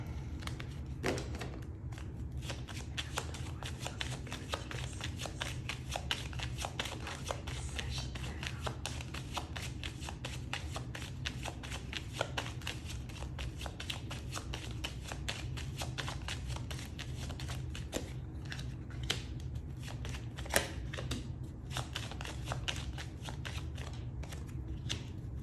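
A 32-card tarot deck shuffled continuously by hand, a dense, even stream of close papery rustles and flicks lasting throughout, with occasional sharper snaps and no speech.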